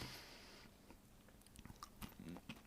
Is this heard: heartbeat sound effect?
no